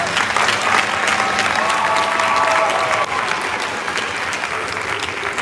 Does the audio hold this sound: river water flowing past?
no